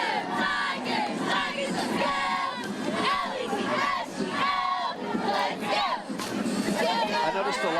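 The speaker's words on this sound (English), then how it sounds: "we've got the Carroll Tigerettes, who are joining us right now with a cheer" Carroll Tigerettes cheerleaders chant a cheer at the Navy-Army Night Parade during Buc Days 2019, their rhythmic shouted calls rising over a loud, continuous crowd roar throughout.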